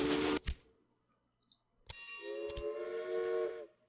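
A steam-era train whistle in the Railway Empire strategy game sounds one steady, sustained tone for over a second, preceded by short clicks and dings from the game.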